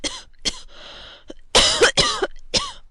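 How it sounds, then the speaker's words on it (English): Several coughs in an audiobook drama, a run of short, harsh bursts spaced across a few seconds, close and fairly loud, with no talk over them. "There now, you see, you are coughing already."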